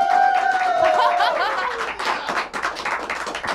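Studio audience at a live Coin-Op TV show clapping and laughing for the co-host's introduction, brief applause with chuckles, overlapped by voices talking loudly.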